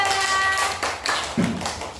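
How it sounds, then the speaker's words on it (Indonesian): Classroom of students clapping for a student group, a short burst of hand claps mixed with a lingering tone and some background voices, uneven and tapering. "Nah, tepuk tangan untuk kelompok 3."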